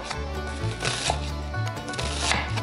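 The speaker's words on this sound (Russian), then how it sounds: "Тоненько, мелко нарезаем лучок." Quick, rapid knife taps on a cutting board, finely chopping an onion, with steady background music underneath.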